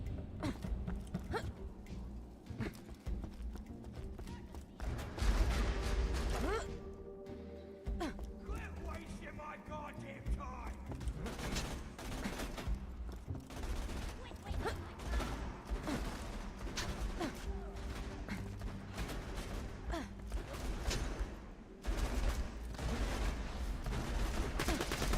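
Gunfire in Borderlands 2 as a turret is shot down, bursts of rapid shots and impacts repeating across the stretch, with someone talking over much of it.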